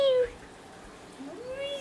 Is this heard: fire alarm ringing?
no